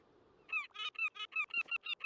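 A cartoon bird in the cozy video game Tiny Bookshop gives a quick run of about nine loud, nasal goose-like honks in a steady rhythm, close and clear with no talking.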